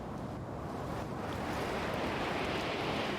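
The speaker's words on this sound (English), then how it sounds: "The storm gets worse." Howling storm wind with rolling surf in the video game The Invincible, a steady, dense roar that builds slightly louder over a few seconds with no talking.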